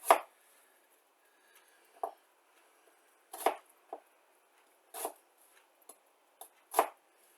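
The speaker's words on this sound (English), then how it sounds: "And just a really rough dice chop on the onion here." A knife roughly dice-chops an onion on a cutting board, with about ten sharp, irregular chops spaced by quiet pauses, heard close and alone.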